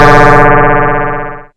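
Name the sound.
harsh FM noise generator synth, Max for Live in Ableton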